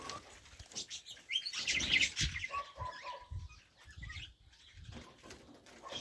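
Budgerigars chirp and twitter in a garden aviary, with a busy cluster of high tweets and some wing flutters at close range, then quieter scattered calls.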